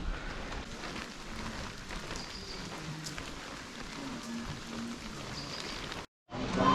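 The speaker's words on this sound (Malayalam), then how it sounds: "നല്ല മഴ പെയ്യുന്നുണ്ട് കേട്ടോ" Steady heavy rain falling on a forest path in Matheran, a dense continuous wash with faint voices underneath, briefly cutting out near the end before resuming.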